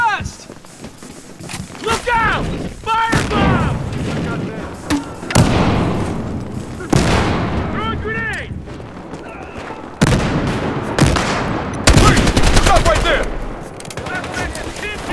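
An RPK-74 machine gun in Battlefield Hardline fires in repeated sharp automatic bursts, loud and close, mixed with other gunfire and shouted character voices between volleys.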